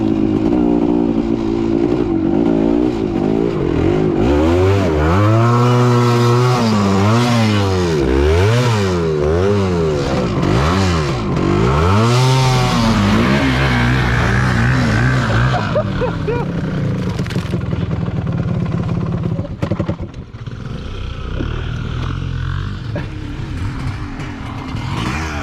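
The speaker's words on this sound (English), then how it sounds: "The bike is literally stuck up to the axles." Dakar rally motorcycle bogged in mud up to the axles, its engine revving hard in repeated rising and falling surges, loud and close, then dropping to a rougher idle near the end.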